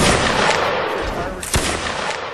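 Rapid gunfire in an online multiplayer video game, dense continuous bursts with one sharp louder shot, loud and close throughout.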